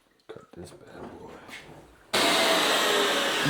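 Saw cutting through a marble tile for an envelope pan, starting abruptly as a loud, steady broadband grinding whine after a stretch of quiet handling noise and low talk.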